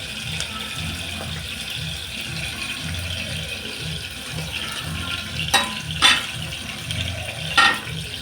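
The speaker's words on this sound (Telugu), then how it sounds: "యాడ్ చేసిన తర్వాత ఆయిల్లో బాగా ఫ్రై చేయండి" Tomato pieces and ginger paste frying in oil for ridge gourd curry: a soft steady sizzle with a low rhythmic pulsing underneath, broken by a few sharp clinks of a spoon against the pan.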